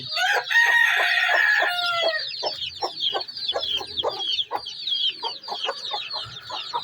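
Chickens cluck and cackle close by, with a rooster-like crowing burst at the start followed by a run of short, repeated clucks.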